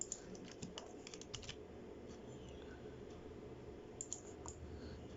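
Computer keyboard keys tapped while modeling in Blender: faint, quick clusters of light clicks, then a pause and a few more presses, over a low room hum.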